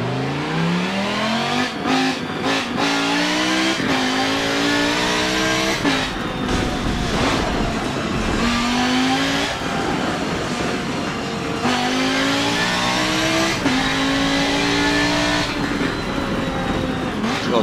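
A race car engine in Forza Motorsport 7 revs hard and climbs through gear after gear, each rising whine dropping at the shift, loud and continuous with occasional tire noise.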